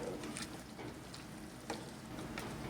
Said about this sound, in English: Give it a good stir around